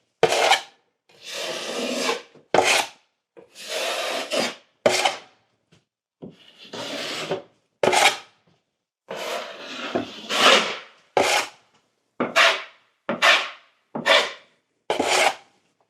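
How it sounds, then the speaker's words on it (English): A drywall knife pressing joint compound into paper tape on a wall seam in a 1988 Palm Harbor singlewide mobile home: repeated close scraping strokes, each a second or so long, separated by short pauses. "embed the joint compound into the tape"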